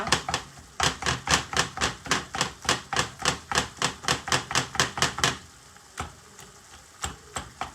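Homemade pasta sauce ingredients being chopped and broken up with a chopping tool in a cast iron skillet: a fast, steady run of about twenty sharp, close knocks, then a pause and a few scattered taps.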